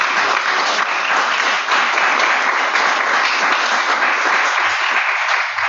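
A church congregation claps together during a Sunday service, dense sustained applause that stays loud and even throughout.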